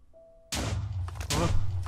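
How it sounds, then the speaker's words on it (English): A short electronic beep, then a sudden loud, booming explosion burst that roars on with a second heavy blast in an underwater adventure scene. "Explosions."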